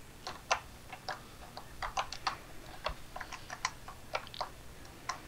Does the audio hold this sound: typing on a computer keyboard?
yes